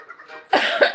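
A person coughs loudly and close by, with a short burst of harsh coughs following a quieter stretch of faint background noise.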